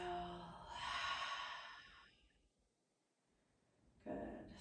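During a yoga session, a soft, breathy exhale sighs out near the microphone, followed by a quiet pause and another faint breath at the end.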